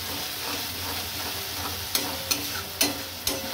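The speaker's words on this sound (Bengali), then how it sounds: "তুমি এবার এই মশলাটাকে একদম ভালোভাবে কষিয়ে নিতে হবে।" Masala paste sautéing in oil for a Bengali egg curry, a steady close sizzle with several sharp scraping knocks of a spatula stirring the pan, no voices.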